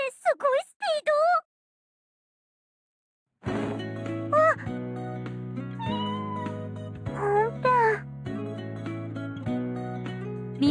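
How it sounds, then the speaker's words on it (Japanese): Cartoonish cat meows in a mobile rhythm game's story scene, a few quick bright cries at the start, then silence, then a bed of game music with more meow-like chirps woven through it. "皆さんに抱きついてゴロゴロ言ってますね。"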